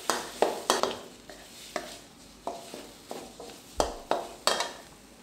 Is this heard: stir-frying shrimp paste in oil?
yes